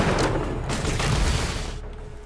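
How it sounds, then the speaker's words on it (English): Dense, rapid gunfire aimed at turrets in the video game Borderlands: The Pre-Sequel, a loud, continuous burst of overlapping shots lasting a couple of seconds before thinning slightly at the end. "Kill the turrets! Kill the turrets!"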